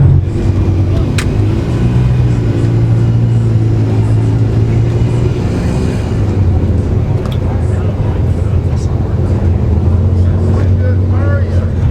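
A propane-fuelled Jeep engine runs continuously at a steady, loud low drone with a rough, rumbling tone, close to the microphone, while voices talk over it.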